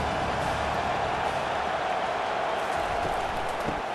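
A stadium crowd roars in College Football 25 during an Oregon versus Wisconsin game, a dense, steady wash of cheering noise that stays loud throughout.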